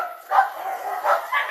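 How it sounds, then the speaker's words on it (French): A dog barks in three short, sharp bursts spaced unevenly across a quiet background. "C'est un chien baoulé ça là."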